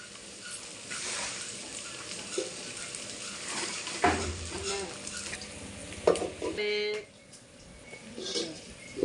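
Green chillies sautéing in hot oil for a goat head curry, a crackling sizzle broken by stirring scrapes and clanks of a utensil against the pan, with a sharper metallic rattle near the end.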